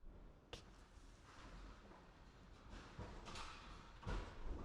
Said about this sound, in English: go ahead and close the left door first.